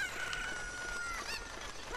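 A chicken in the Ocarina of Time video game, giving fowl-like calls, crowing and clucking, amid a dense game soundscape with a steady tone, faint and continuous over two seconds.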